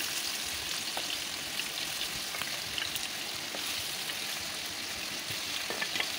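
Young green pointed gourd (potol) sautéing in a pan over a clay stove, giving a steady, soft frying sizzle with faint crackles and occasional stirring scrapes, no voices.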